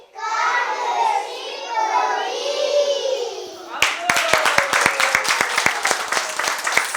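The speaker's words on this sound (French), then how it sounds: "Vous êtes déjà bien encouragés et bien applaudis par vos maîtresses" Young children's voices are heard first. Then their teachers break into brisk, close applause that continues steadily to the end.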